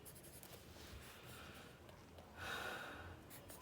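A pencil or marker scratches on paper while tens are drawn for a first- or second-grade math problem, faint soft strokes with a louder rubbing stretch near the end in a quiet room.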